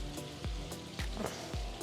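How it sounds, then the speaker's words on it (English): Water from a backyard pool waterfall splashes and patters steadily at close range, with a few sharper drips and splashes breaking through the continuous wash, no voices present. "now you have a beautiful waterfall. I don't know if you can hear it."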